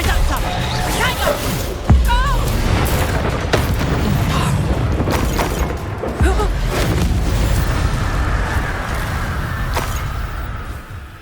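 Spell combat in Hogwarts Legacy on PS5, with a sharp booming blast from the Reductor curse near the two-second mark and another around six seconds, set among continuous battle noise, magical effects and spoken incantations.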